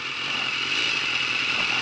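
Motorcycle engine idling steadily during a category A riding test route in Łódź, a continuous buzzing drone at close range with no speech over it.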